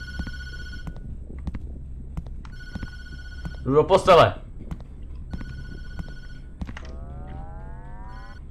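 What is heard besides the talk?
mobile phone ringing in the video game Tattletail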